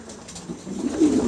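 A pigeon coos softly once at close range, a short low throaty call over faint background noise.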